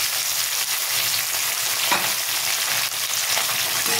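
Sweet potato and vegetable stems frying in a pan, a loud, steady sizzle running without pause from start to finish, with a faint scrape of stirring near the middle.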